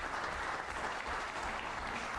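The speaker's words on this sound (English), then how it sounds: "So another round of applause for Drew and Whitey," An audience at a meeting gives a round of applause, a thick, even patter of many hands clapping, moderately distant and continuous through the whole stretch with no voices on top.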